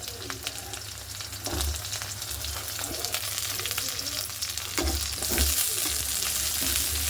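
Shallots, onion and garlic fry in a pan for needle fish curry, giving a continuous soft sizzle with stirring scrapes and a few louder bursts, with no talking.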